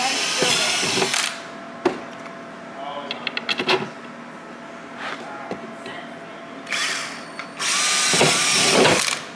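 A power drill bores holes into parts of a capacitor array project in short whining bursts of a second or two, separated by pauses filled with clicks and handling noise, as people talk nearby.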